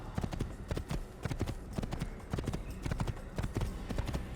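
A horse gallops in the Assassin's Creed video game on Xbox One, around Damascus, its hooves drumming in a quick, steady, close rhythm without a break.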